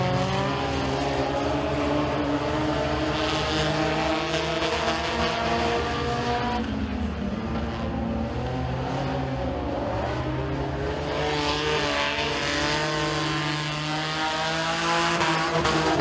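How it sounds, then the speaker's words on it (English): Race cars at Eriez Speedway roar steadily through a heat race, engines droning and rising and falling in pitch as the pack circles the dirt oval, loud and continuous with no talk over it. "We'll see if he can hold off Domingo in that 52 car."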